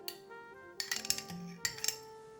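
A spoon clinks and scrapes against a bowl while swirling pumpkin butter into cottage cheese ice cream, a few light metallic taps and scrapes in two short clusters, close and fairly quiet with no talking.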